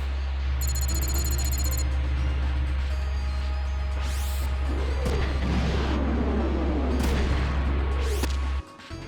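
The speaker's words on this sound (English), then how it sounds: "Let's shoot a missile at this big guy." A mech fires a missile in the Front Mission 3 strategy game over a steady low engine hum, with a sharp launch burst and sweeping whooshes in the middle, close and loud.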